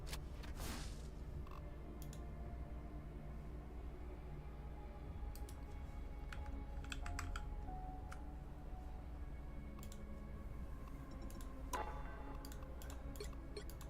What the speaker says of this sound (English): I got a new keyboard, so we're going to see how it works out sound-wise.